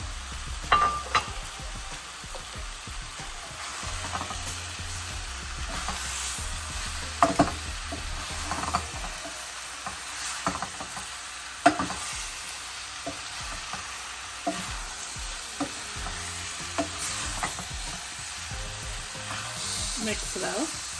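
Sliced tomatoes from two large tomatoes hit a hot frying pan for mutton palak, giving a steady sizzle and frying hiss with occasional stirring scrapes and clinks, close and continuous, no talking.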